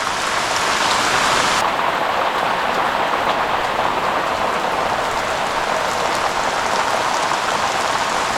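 Heavy rain pours down steadily over rice paddy fields in the Konkan, a dense, loud hiss of drops drumming on surfaces with no pauses or voices.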